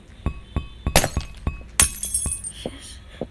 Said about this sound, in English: Yes, the glass has been broken.